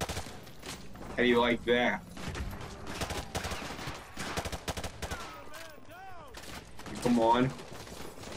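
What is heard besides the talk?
gunfire in Call of Duty: Modern Warfare 2 video game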